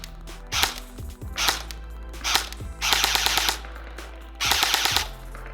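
Cyma CM.515 airsoft replica firing BBs at targets: rapid full-auto bursts of sharp mechanical clatter, several short strings of shots followed by two longer bursts, close and loud.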